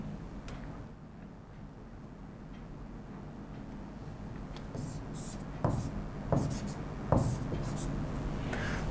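Chalk or marker strokes on a board during a chemistry lecture, a few short scratchy taps and scrapes growing more distinct toward the end, faint and close beneath a quiet room background.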